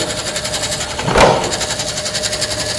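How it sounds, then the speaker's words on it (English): A buzzing, rhythmic mechanical whir of a half-inch power drill running steadily at low speed, with a brief louder surge in the middle, close by. "I'll take a 1/2 inch drill,"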